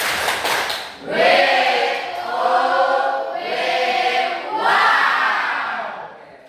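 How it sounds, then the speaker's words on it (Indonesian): A school class joins in a rhythmic "tepuk wow" clap-and-cheer for presenting groups, with a chorus of voices swelling in three loud chanted waves, close and filling the room. "Sekali lagi kita tepuk wow untuk kelompok 1 dan kelompok 4."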